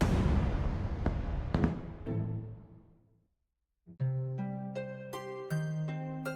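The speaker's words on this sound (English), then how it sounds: "As the fireworks lit up the sky, painting the snow in a rainbow of colors" Fireworks bursting on a snowy night: several sharp bangs trail off into a long fading rumble, and after a short silence come more booms along with bright ringing, whistling tones.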